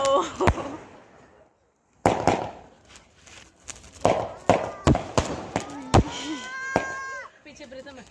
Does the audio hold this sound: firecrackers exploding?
yes